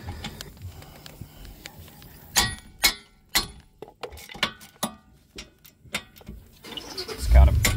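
Metallic clinks and ratcheting clicks from a wrench working loose the 17 mm caliper bracket bolts on a 2020 Hyundai Palisade during a rear brake job, a series of sharp close taps with quiet gaps and a louder clatter at the end.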